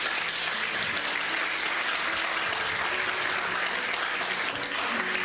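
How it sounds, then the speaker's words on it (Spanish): Church congregation applauding during a Spanish-language sermon, a steady, dense wash of clapping that fills the room throughout with no speech over it. "Dale un aplauso al Señor."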